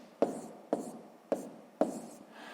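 A pen scratches out a fraction on paper in a sixth-grade math exercise, four crisp strokes in a steady rhythm roughly half a second apart, close by with no voices.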